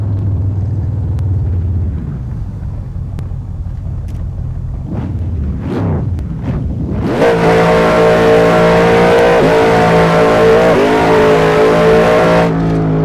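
A modded car engine idles with a low rumble, blips a few times, then revs up and holds a loud, steady high drone before easing off.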